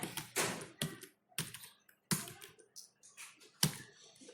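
Fingers tap out a name on a computer keyboard in irregular, clicky bursts of keystrokes with short pauses between, close and moderately loud with no talking.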